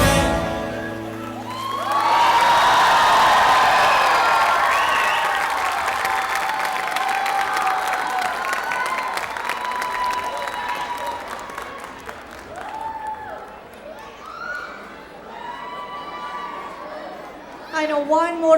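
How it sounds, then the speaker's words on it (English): A crowd applauds after a dance recital, with dense clapping and some cheers that build, hold steady and then thin out into scattered claps and chatter, with people talking near the end. "I know, one more round of applause."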